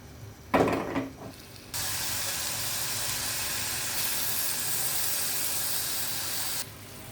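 Pineapple simmers with two tablespoons of sugar in a pan. After a brief knock, a steady, fairly loud hiss of bubbling and steam runs for about five seconds, then cuts off.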